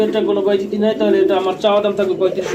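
Lahori pigeons coo close by in a steady run of low, throaty rolling calls, with no other sound around them.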